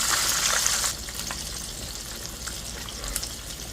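Pork chops fry in a pan with a bright, crackling sizzle, loudest at the start and then settling into a steadier, softer spatter with scattered pops.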